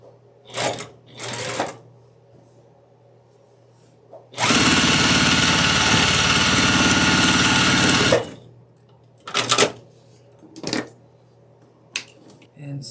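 Sewing machine stitching quilt block pieces with a quarter-inch seam, running steadily for about four seconds in the middle, framed by short clicks and handling sounds.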